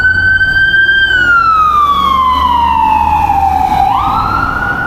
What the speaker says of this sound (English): I'm sure that's the sirens in the background